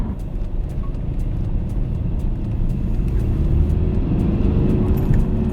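A Mercedes-Benz C-Class Coupé C220 with 170 hp drives along, its engine a steady, smooth low drone blended with road and tyre noise, heard from inside the cabin without any aggressive note.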